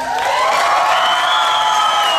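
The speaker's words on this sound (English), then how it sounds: "Let's give a round of applause and let me hear ya." An audience at a pageant awards ceremony cheers and whoops loudly, with rising shouted voices over a bed of applause, close and intense for the whole moment.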